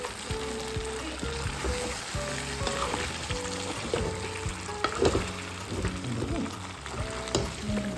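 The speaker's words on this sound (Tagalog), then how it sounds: "Haluin natin kasama yung ribs at hayaan natin kumulo at dumikit sa bawat piraso ng ribs yung sauce." Pork ribs simmer in a Sprite-based sauce in a pan, bubbling and sizzling steadily while a utensil stirs and scrapes through them in repeated close strokes.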